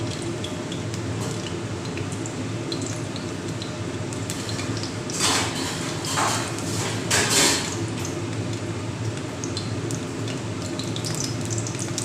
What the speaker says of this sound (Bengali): এবার আমি প্রথমে সেদ্ধ করে রাখা আলুগুলোকে একটু ভেজে নেব